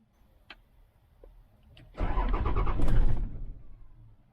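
The Cummins diesel engine of a 2006 Dodge Ram 2500 cranks after a fuel filter change, a rough whirring starter chug for about two seconds that fails to catch, preceded by a few faint clicks.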